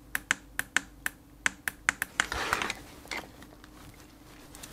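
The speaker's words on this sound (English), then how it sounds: "So it's now nice and clicky. It's much more positive." A clicky button on a homemade gamepad is pressed repeatedly, giving a quick series of crisp, close clicks followed by a softer rustle of handling.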